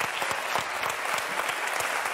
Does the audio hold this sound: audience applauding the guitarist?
yes